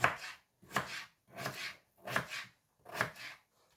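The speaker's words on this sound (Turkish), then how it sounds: "ortadan ikiye bölüp yarım ay şeklinde doğruyorum" A knife chops potatoes into half-moon slices on a board, five evenly spaced, close and crisp cuts with short pauses between them and no talking.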